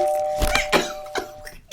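A doorbell chimes with a steady ringing tone lasting over a second, alongside a few soft knocks or thumps in a quiet room.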